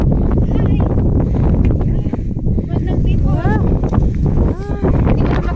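Strong wind roars and buffets the microphone steadily on a mountain ridge, with a person exclaiming and calling out over the gusts outdoors.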